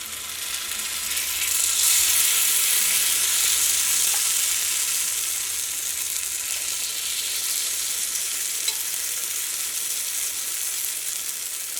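Broken wheat batter hisses and sizzles steadily as it is poured over an egg in a hot pan, a loud, continuous bright frying sound with no voices.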